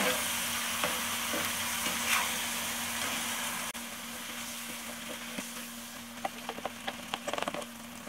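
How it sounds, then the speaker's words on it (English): Beef mince with Italian diced tomatoes sizzles steadily in a pan as it is stirred, a continuous close frying hiss with a few sharper utensil clicks near the end. "Give that a stir and just let that cook for a little bit."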